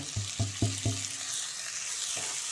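Curry leaves, green chillies and cut capsicum frying in a pan with a soft, steady sizzle, punctuated by four quick thumps of stirring in the first second and one more near the end, fairly quiet and close.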